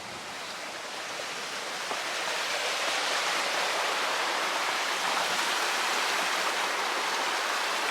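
Sea water washing against the rocky coast near Lizard Point in Cornwall, heard from the coast path as a loud, continuous broadband roar of surf that swells slightly and holds steady, with no voices.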